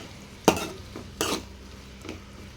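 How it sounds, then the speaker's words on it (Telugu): A spoon stirs capsicum and tomato curry seasoned with salt in a pan, giving two distinct scraping strokes and a softer third, with quiet pauses between them. "సాల్ట్ కూడా వేసేసుకొని కలిపేసుకుందాం ఒకసారి"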